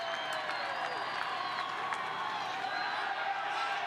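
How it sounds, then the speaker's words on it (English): Stadium crowd at a college football game between South Alabama and Bowling Green, cheering during a long scoring drive, a steady broad roar with scattered claps and whistles, fairly distant and continuous, with commentators talking over it. "How about the crowd getting into it, too?"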